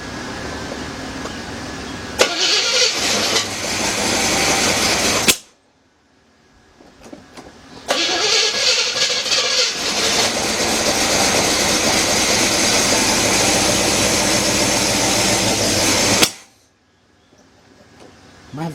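A 1977 Buick LeSabre with a 350 V8 cranks and catches in two loud bursts of running, each cut off abruptly by silence, the engine sounding rough and close up.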